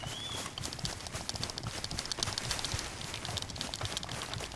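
Hoofbeats of a horse galloping in Red Dead Redemption 2, a steady rapid clip-clop close by over a rustling, rain-like game ambience, with no talk.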